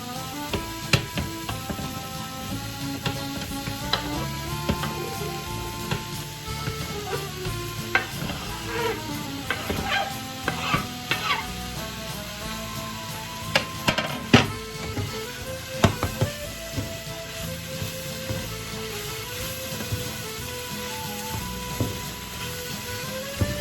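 Lardons frying in a pan over medium heat for a French tartiflette, with a steady, crackling sizzle throughout and occasional clinks of stirring, close and continuous, with no talking.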